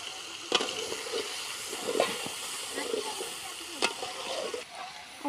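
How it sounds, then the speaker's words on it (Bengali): Meat cooks in a pan at a group feast, with hissing and sizzling, the scrape and knock of a stirring spoon, and a voice speaking now and then. "এখানে মাংস রান্না হচ্ছে"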